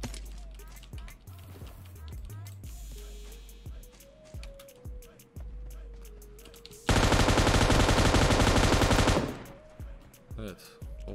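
An M249 light machine gun in PUBG Mobile lets loose a loud sustained burst of rapid automatic fire lasting a couple of seconds, after scattered single shots and footsteps.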